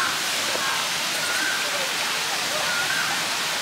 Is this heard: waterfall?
yes